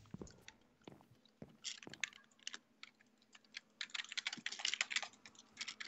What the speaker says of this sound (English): stop typing so hard